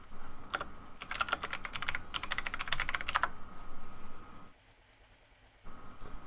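Rapid clattering keystrokes on a computer keyboard come in two quick flurries over a low steady engine-like hum, then a short lull of near quiet before the hum returns.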